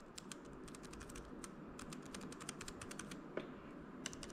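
MacBook Air M1 laptop keys, with a sticky key being fixed, are pressed in a fast, steady run of light, close clicks over a soft background hiss.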